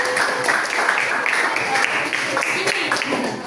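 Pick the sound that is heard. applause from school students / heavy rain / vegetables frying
applause from school students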